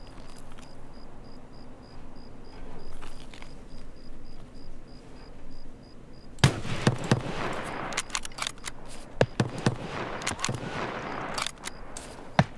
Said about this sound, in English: he's blind firing me